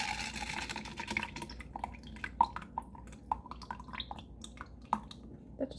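Flax seed pudding mixture being poured, giving a run of small wet drips and splashes with a few sharper plops, close and fairly quiet over a soft liquid hiss.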